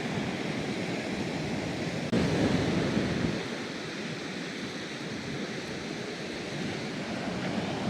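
Steady roar of sea waves washing onto a beach, a broad continuous rush with a brief louder surge partway through; no voices.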